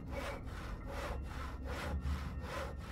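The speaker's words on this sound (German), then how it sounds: "Weil da ist ja ein Holzbrett und da ist ja eine Säge mal logisch." A wooden board being sawn in the video game Penumbra Overture, repeated back-and-forth rasping strokes at an even rhythm, close and loud, with no voices.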